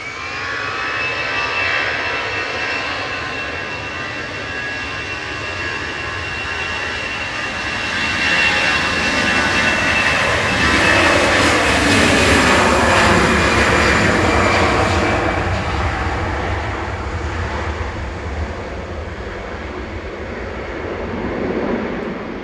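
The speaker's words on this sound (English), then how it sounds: "EasyJet heading off now in front of us, flight 2109 over to Paris Charles de Gaulle." An easyJet airliner taking off from Manchester Airport, its jet engines giving a loud, sustained roar that swells to a peak midway and then slowly fades as it climbs away.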